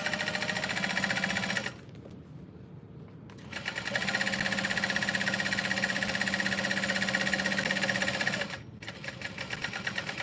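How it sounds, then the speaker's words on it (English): A sewing machine runs fast and steady with a long stitch length, sewing down both sides of tote bag straps. Its rhythmic whirring fills most of the clip, broken by two short pauses. "I'm gonna go ahead and use a stitch length of 5 to sew down both sides of the straps."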